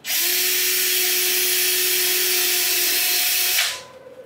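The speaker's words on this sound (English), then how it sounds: "we're going to drill our 4th hole into the threshold, and our 5th hole just outside at the edge." A power drill bores a 1/8 inch rivet hole into a boat's metal threshold during a Sleekline Yamaha installation, one steady loud whine lasting about three and a half seconds before it cuts off.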